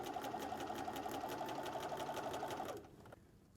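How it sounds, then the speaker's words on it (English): A sewing machine stitches a quilted wall calendar with a fast, steady mechanical whir and rhythmic needle clatter, running close and loud for nearly three seconds before stopping abruptly. "Needle down, presser foot up, turn, presser foot down, and keep stitching."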